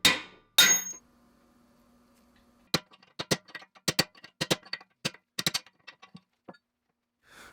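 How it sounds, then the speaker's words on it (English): A hammer strikes a steel drift to knock a steering-head bearing race out of a 1978 Honda CB750 triple tree, sharp metallic blows in an irregular series, close and clear, after a couple of louder knocks and a quiet pause. "all I'm going to do is use a steel drift and a hammer and knock it out."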